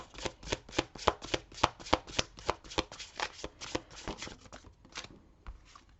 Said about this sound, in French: Je vais juste tirer une carte du tarot